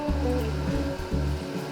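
Distilled water pours steadily into a container being filled to the top during cleaning, a continuous gushing, splashing flow close by with slight surges and no voices.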